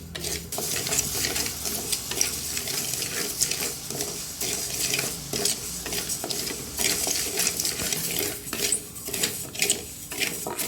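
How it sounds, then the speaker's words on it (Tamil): Rice grains dry-roasting in a hot kadai, stirred continuously with a steady scraping, rustling clatter and light crackle, fairly close and with no talking. "அரிசியை வறுத்து எடுத்துக்குவோம்."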